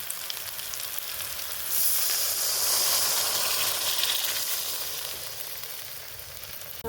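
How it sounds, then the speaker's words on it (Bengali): Water poured onto a spice paste frying in oil for a fish and potato curry sets off a loud, rising steam hiss and sizzle that peaks and then slowly settles back to a softer bubbling fry, with no voices. "এখন আমি জল দিয়ে দিচ্ছি মশলায়"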